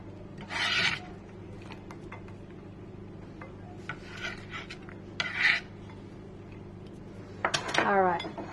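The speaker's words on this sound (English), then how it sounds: "Okay, so let's put them in the bowl." Avocados go into a bowl with a few soft scraping, rubbing knocks over a steady low hum, with a voice speaking briefly near the end.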